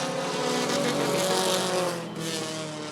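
Race cars battle to the finish line at Rockford Speedway, a loud buzzing engine drone sweeping past, swelling and then dropping away near the end.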